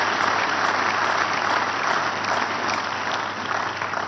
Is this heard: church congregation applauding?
yes